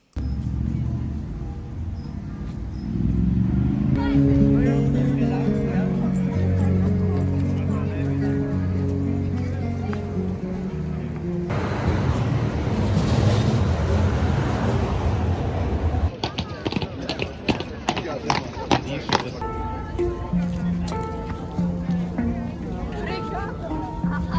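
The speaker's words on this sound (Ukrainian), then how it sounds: "дати вам послухати трохи звуків Кракова без музики, без нічого" Street ambience in Kraków: a steady city bed with passing traffic and occasional horns and birds, crowd babble, and sharp clattering knocks later on, with someone talking over parts of it.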